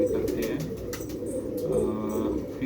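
Pigeons coo nearby in a low, continuous, throaty murmur, with soft fluttering and rustling around them.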